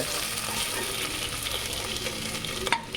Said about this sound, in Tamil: இஞ்சி பூண்டு பேஸ்ட்டை வந்து ஒரு ரெண்டு ஸ்பூன் இதில் சேர்க்கணும் சேர்த்து நல்லா வதக்குங்க